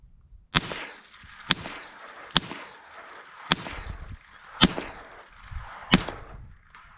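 Six unsuppressed supersonic rifle shots fired one at a time at uneven intervals of about a second, each a sharp, loud crack followed by a short echoing tail, with no talking.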